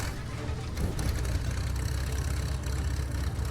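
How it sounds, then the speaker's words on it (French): A low engine rumbles steadily throughout in the video game Maliki: Poison of the Past, idling with a slightly rough, knocking texture, fairly close and unbroken, with no speech. "Vous entendez? Un moteur"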